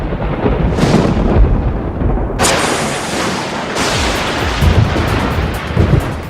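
Thunder from an electrical storm cracks in sharp bursts and rumbles over a continuous loud roar, with two sudden crashes partway through.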